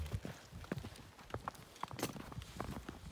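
An Australian horse's hooves clip-clop on a hard surface in snow in an uneven walking rhythm, with scattered thuds and rustling close by.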